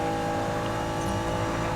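A race car in Need for Speed Payback laps a small circuit, its engine holding a steady, loud, droning tone throughout, with no talk over it.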